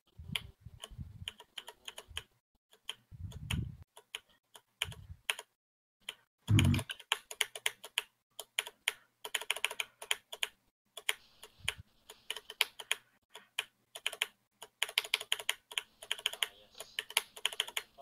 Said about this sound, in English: Intensify the clicking.